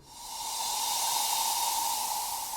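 A Vengeance crash cymbal sample swells in as a broad, bright hissing wash with a ringing midrange tone, sustaining evenly for a couple of seconds without decay.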